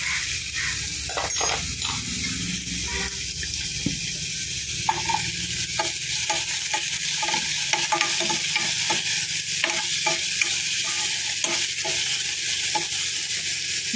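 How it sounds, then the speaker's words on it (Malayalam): Banana flower sautés in ghee in a pan, with a loud, continuous sizzle and frequent stirring scrapes throughout and no voices. "ചില നെയ്യും കൂടി ഇട്ടിട്ട് ഇതൊന്ന് വഴറ്റിയെടുക്കാം."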